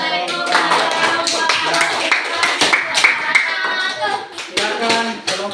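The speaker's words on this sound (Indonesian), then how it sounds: "Berikan aplaus." A classroom audience claps in a dense, sustained round of applause, close and lively, with children's voices mixed in beneath the clapping.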